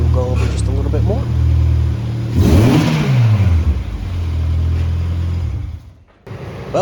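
A Honda Civic engine revs and hums as the car is driven into a shop, with a rising and falling mid-pitched note close by. People talk over the engine throughout.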